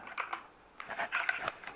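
Fingers tap quickly on a computer keyboard at a desk, a short burst of light clicking keystrokes with a brief pause, close and soft, no voices.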